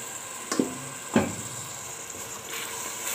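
Vegetables for mahshi sautéing in a pot: a soft, steady sizzle and hiss, with two sharp utensil clanks early on, then an even simmering hiss.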